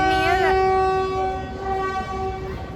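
Train at a railway station in India, a loud horn sounding with strong harmonic tones that swell early and then sustain, over steady rumbling station noise without clear talk.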